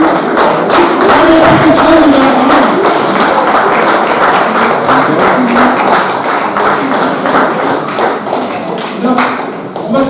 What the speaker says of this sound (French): C'est Jean-Pierre Morin qu'on peut applaudir parce qu'il nous a rejoints.